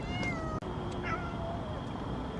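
A cat meows several times up close at a campsite, drawn-out tonal cries over a steady background hum, with a brief sharp click partway through.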